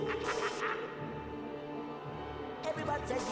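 Draco Malfoy's pained, disappointed grunt when hit in a Harry Potter and the Sorcerer's Stone video game, a short, quacking, nasal vocal cry heard twice over steady game background sound.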